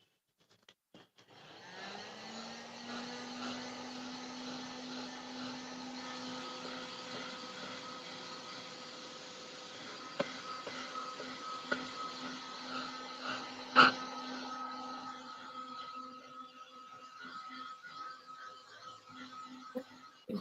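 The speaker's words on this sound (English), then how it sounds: "So now I'm going to use heat gun here and you will see this will turn golden." Heat gun blowing hot air over craft embossing powder: a steady whirring blower hum with a constant whine that starts abruptly and runs throughout, with a few faint clicks near the end.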